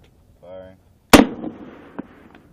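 An anti-tank round is fired, one sharp, loud blast that rings out and fades, followed by a fainter echo. A brief voice is heard just before the shot.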